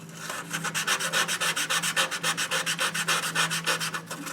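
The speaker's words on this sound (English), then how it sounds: "and then I just start sanding." Contact points in an Asteroids Deluxe arcade game being sanded with 1000 grit sandpaper, a steady, rapid back-and-forth rubbing rasp, close and fairly loud, repeating evenly with no talk.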